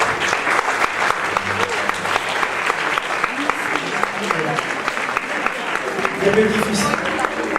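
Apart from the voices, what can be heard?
audience applause at commemoration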